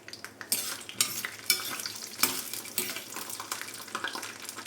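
Peanuts frying in hot oil in a pan, giving a dense crackling sizzle close by, with frequent scraping and stirring clatter throughout and no voices.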